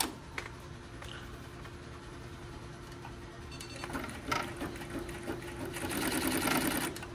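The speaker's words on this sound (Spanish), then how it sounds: "vamos a ponerlo a coser." A Tajima embroidery machine stitches in a steady, close mechanical chatter of fast needle strokes that grows busier and louder toward the end, with no talk over it.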